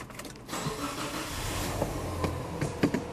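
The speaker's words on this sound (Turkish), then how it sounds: "Aracı ilk çalıştırdım." A Subaru Legacy car starts up: a brief cranking catch settles into a low, steady idle with a few light clicks and knocks, close and moderately loud, with no talk.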